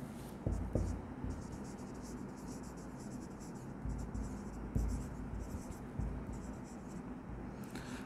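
Pen or marker writing on a board during a lesson, with scratchy strokes and occasional taps coming at an irregular rhythm, close and fairly quiet.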